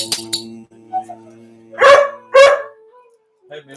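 A dog gives two loud, sharp barks close by, following quieter sounds at the start and a brief vocal sound at the end.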